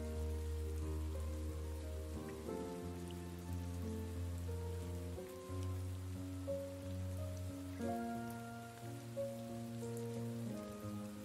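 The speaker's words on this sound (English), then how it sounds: "The endless patter of rain on the street creates a wordless song" Steady rain patters on a street in the video game Behind the Frame, a continuous, even hiss of drops beneath soft sustained music tones, with no voices.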